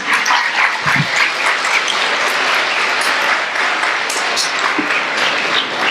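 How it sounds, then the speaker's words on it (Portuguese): A church congregation applauds steadily, dense clapping filling the room from start to finish without pause. "Aplaude o Senhor Jesus."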